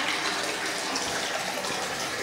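A bathroom faucet running in a house being inspected before move-in, a steady hiss of water with no pauses and no voices.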